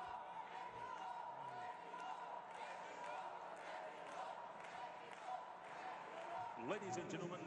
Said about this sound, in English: Applause to both before the verdict.